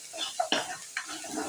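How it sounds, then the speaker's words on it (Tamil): Onions and green chillies sautéing in hot oil with fennel seeds in a home kitchen, a soft steady sizzle with a few scraping stirs of a spoon against the pan, close and fairly quiet. "வெங்காயத்தை போட்டு நல்லா வதக்கிட்டு கொஞ்சோண்டு பச்சை மிளகா போட்டு அதையும் நல்லா வதக்கிட்டு"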